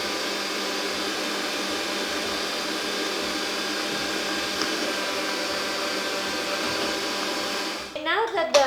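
An electric mixer beats eggs and sugar with a little vanilla for a fresh prune cake batter, whirring in a loud, steady drone that cuts off with a few clattering knocks near the end.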